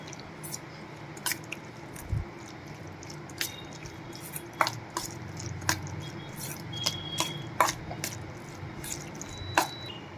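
Pizza stuffing for bread pizza being mixed with mayonnaise and pizza masala, giving soft wet squishing and sticky clicks at an irregular pace, close up and with no speech.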